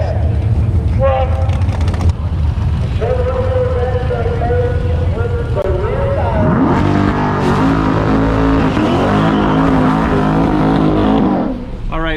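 A C8 Corvette launches in a quarter-mile grudge drag race, engine revving up loud and rising in pitch, with a crowd voice speaking over the roar.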